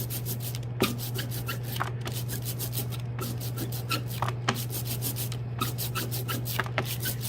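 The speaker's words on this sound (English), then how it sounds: "I want to keep rolling until that ink starts to sound just a little bit sticky" Tacky printmaking ink being rolled out with a brayer on an ink tray, a steady sticky rubbing and crackling texture with repeated rolling strokes under a constant low hum.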